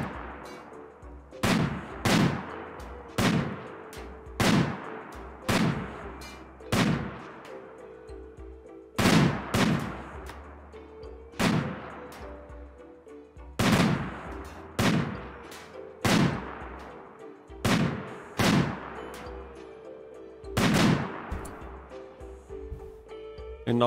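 Gunshots from pawns in RimWorld (Ideology), a steady series of sharp, loud single reports spaced about a second apart with brief decays, continuing throughout without talk.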